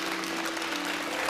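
A studio audience at a televised event breaks into loud, sustained applause, a dense wash of clapping hands that fills the brief moment.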